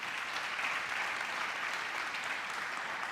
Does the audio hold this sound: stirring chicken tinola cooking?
no